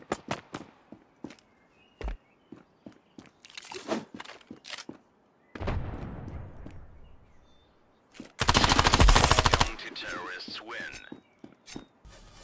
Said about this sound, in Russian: Я же по нему стрелял.